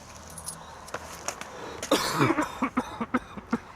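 A few harsh, rough coughs near the middle, followed by several short throaty coughs and throat clearing in a quick irregular series.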